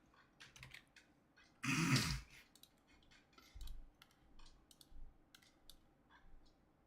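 Sparse clicks of computer keyboard typing, with one louder rustling burst near two seconds and soft thumps in a quiet room.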